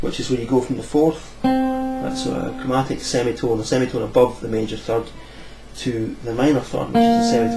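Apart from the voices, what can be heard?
No everyday noise stands out behind the speech.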